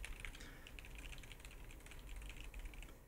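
Keys clatter quietly and quickly on a Wooting 60HE Alumaze mechanical gaming keyboard, a dense run of light clicky strokes with no talk over them.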